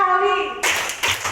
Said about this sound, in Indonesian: tepuk dua kali.